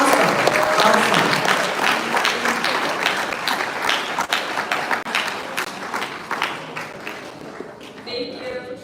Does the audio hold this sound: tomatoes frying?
no